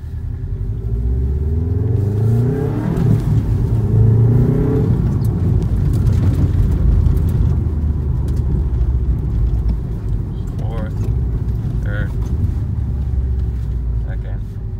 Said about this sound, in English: Basically all you'll hear is exhaust.